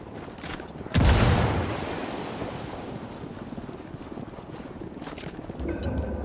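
A frag grenade in the video game Ghost Recon goes off with one sudden loud blast about a second in, then a long rumbling, hissing decay like wind and surf; a lower rumble swells again near the end.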